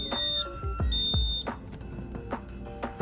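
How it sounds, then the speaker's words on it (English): A high, steady electronic alarm tone sounds, then cuts out partway through, with thumps, clatter and footsteps nearby as it stops. "hear that alarm going off"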